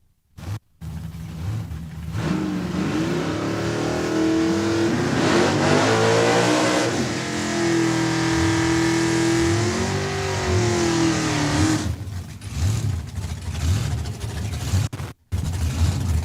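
An old Bennett drag race car driven by Isaac Stettner roars at Saskatchewan International Raceway, its engine loud and sustained, pitch climbing and sweeping through hard revs before cutting off abruptly near the end.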